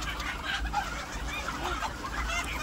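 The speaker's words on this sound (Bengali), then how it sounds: "তো একসাথে 2টা করে মুরগি ধরতেছে" Poultry in a control shed cluck and squawk steadily while workers catch them two at a time for drop vaccination, a dense flock chorus over a constant low hum, with no talk.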